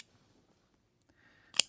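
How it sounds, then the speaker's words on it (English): Thread snips cutting through sewing thread give one quick, sharp snip, close and fairly quiet, after a brief stretch of near silence. "they just snip off the thread so easy"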